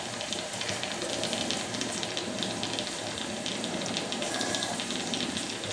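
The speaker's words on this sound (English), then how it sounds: "Just opening the steam valve now." Steam hisses steadily and faintly as the valve opens on a Jensen model 20 toy steam engine, a soft, continuous rushing sound with no talk.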